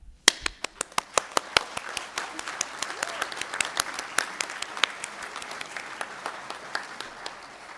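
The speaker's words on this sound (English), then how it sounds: "Please stand and please applaud." Scattered hand claps from a small audience applauding volunteers, with one sharp clap at the start followed by a steady, fairly quiet patter of individual claps.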